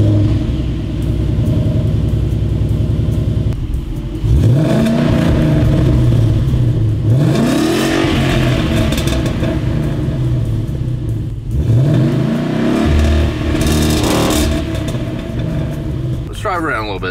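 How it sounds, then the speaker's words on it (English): A Ford Mustang GT engine with stock exhaust and no catalytic converters idles with a deep rumble, then revs up loudly twice, rising and falling in pitch, with a throaty exhaust note throughout. "So this would be what your stock exhaust would sound like without catalytic converters."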